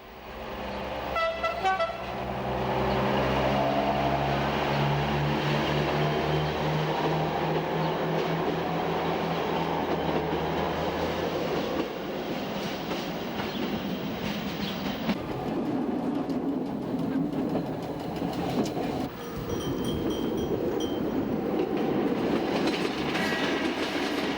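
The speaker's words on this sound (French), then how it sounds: "les autorails CFD, accompagnés de leurs petites remorques billards, préservent bien le caractère familial de la voie métrique" A CFD diesel railcar on the Corsican metre-gauge line, railcar X 97050, rumbles steadily along the track, with a short horn toot near the start and continuous wheel and engine noise throughout.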